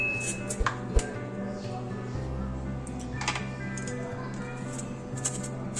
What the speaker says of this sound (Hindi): तो इसके लिए मैंने पेठा लिया, इसको हम काट लेते हैं। पेठे का छिलका उतार लेते हैं।